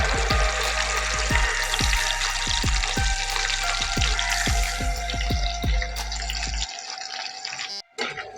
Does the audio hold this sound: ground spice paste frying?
yes